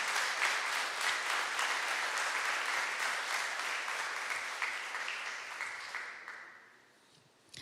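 Congregation at a church worship service applauding, a dense sustained wash of clapping that fades out toward the end.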